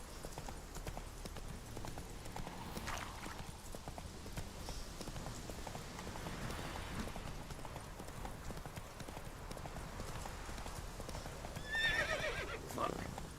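In The Witcher 3, the horse Roach gallops with rapid, continuous hoofbeats, a whinny rising near the end. Ambient game sound runs underneath, and a voice speaks briefly.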